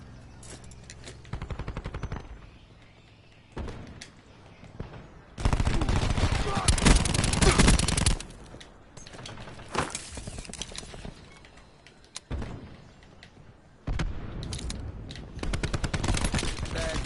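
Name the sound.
sentry gun firing in video game Call of Duty Black Ops 4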